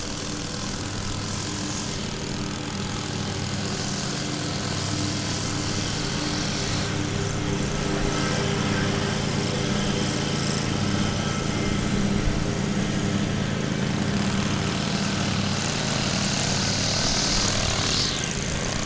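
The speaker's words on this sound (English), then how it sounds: "So we've got mowers" Lawn mowers and string trimmers work the grass beside a runway at DFW Airport, a steady buzzing engine drone with a whining edge that continues unbroken and fairly close.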